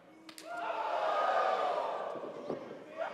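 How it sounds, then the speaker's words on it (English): A wrestling crowd at a WrestlePro show in Orlando roars and cheers, swelling into a sustained loud din that peaks mid-clip and then eases off. Scattered shouts and slaps punctuate it. "The crowd having a good time here"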